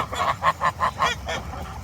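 Geese honk in a quick run of about six nasal calls in a little under two seconds, loud and close with some overlapping.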